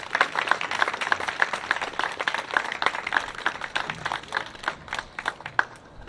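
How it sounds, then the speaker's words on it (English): A light round of applause at a class of 2021 ceremony: scattered, fairly faint hand claps at a brisk, irregular rhythm that thin out toward the end, with no speech over them. "Nice light round of applause."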